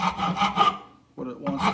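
A rasp files the wooden blade of a sword in brisk, close-up strokes: four quick rasping passes, a short pause, then more scraping resumes.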